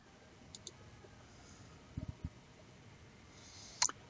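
A few soft, sharp computer mouse clicks, quiet and isolated against a faint hiss, with a brief louder tap near the end.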